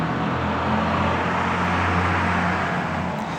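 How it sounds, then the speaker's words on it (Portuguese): A truck rumbles past on a road, a loud steady engine drone with broadband road noise that holds across the whole stretch, heavy and close. "Deixa o caminhão passar, gente."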